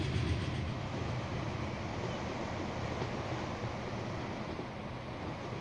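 A Hiawatha passenger train runs in the rail-building game Transport Fever, giving a steady, loud rolling rumble with a wash of wheel and track noise that holds evenly from start to finish, with no talk.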